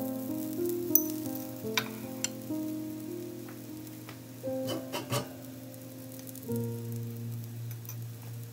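Rice adai made with spinach and okra sizzles steadily on a hot pan over low heat, a soft continuous crackle with a few sharper clicks and scraping stirs breaking through, close by and with no talking.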